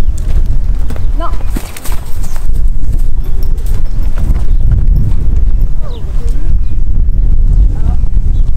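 Horse hooves clip-clopping on the ground during liberty work with two horses, irregular thuds mixed with wind buffeting the microphone and occasional voices in the background.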